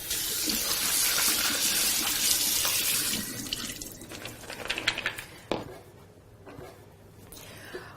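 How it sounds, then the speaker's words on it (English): Soaked almonds are rinsed under a running tap into a sink, a loud continuous gush of water with rattling and splashing, followed by the flow stopping and a few clinks and handling sounds. "So I've just soaked these overnight. I'm going to give them a bit of a rinse."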